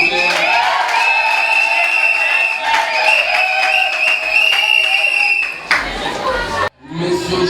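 Guests at a wedding ceremony in a reception hall clap and cheer together with crowd chatter for several seconds, then the sound cuts away abruptly near the end.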